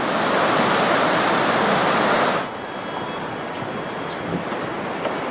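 Rushing river water at a mountain creek crossing, a loud broadband roar for the first two seconds that drops to a steadier, softer flow, with no voices.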